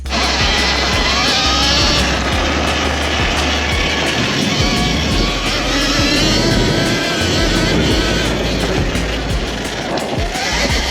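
Electric Surron Ultra Bee dirt bike on poor-grip tyres, riding and braking: a continuous loud rushing roar of wind and motor whine with steady rumble throughout, no talk.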